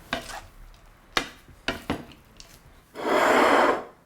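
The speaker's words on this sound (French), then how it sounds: "je verse ma vinaigrette dans ma salade et je vais mélanger." Thai beef salad of leftover roast beef tossed with vinaigrette, a few sharp scraping clinks of utensils against the bowl followed by a longer rustling swish of mixing, close and without talk.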